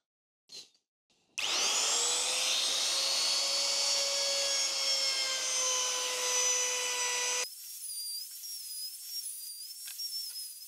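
A wood router rounding over the edges of a solid-wood gaming stand whines up abruptly into a loud, high, steady screaming tone. The tone holds for about six seconds, then cuts off, leaving a fainter whirring as it spins down.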